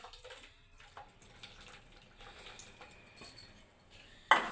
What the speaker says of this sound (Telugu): ఇలాగ ఈ వాటర్ అయితే వేసుకుందాము చింతపండు వాటర్